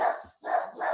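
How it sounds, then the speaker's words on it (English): Several dogs bark in loud, close bursts, with a brief pause before the barking resumes. "And there go the dogs."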